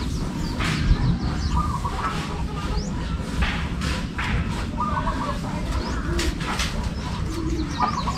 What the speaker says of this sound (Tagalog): Para i-toss natin doon mga kalapatids.